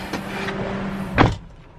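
The power side mirror on a Nissan Grand Livina hums briefly as its small electric motor moves it, a faint steady whir followed by a short thump, quiet and close.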